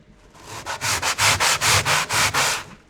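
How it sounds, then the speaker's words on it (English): Steady back-and-forth sanding strokes on a drywall patch, about a dozen rhythmic rasping passes, close and fairly loud with no talking. "You want to rub the sanding line in"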